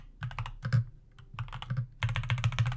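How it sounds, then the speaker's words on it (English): Bursts of typing on a computer keyboard while running a terminal command for a Camp demo, keys clattering in quick uneven clusters with a brief pause near the middle, then a dense loud run of keystrokes at the end; no talking. "if I can type properly"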